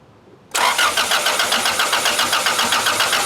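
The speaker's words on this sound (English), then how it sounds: "Car cranks over, but just no spark." A 1999 car with OBD2A electronics cranks steadily on its starter without firing, a loud rapid rhythmic churning that kicks in abruptly and continues evenly, with no talking over it.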